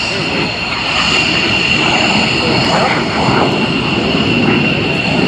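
A loud jet aircraft engine with 3,500 pounds of thrust and a short tailpipe roars steadily overhead at the Dayton Air Show, its pitch sweeping as the plane passes, with faint voices beneath the noise.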